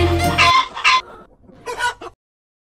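A black hen on a farm clucks in a few short bursts, loud and close, with a brief pause between calls before falling silent.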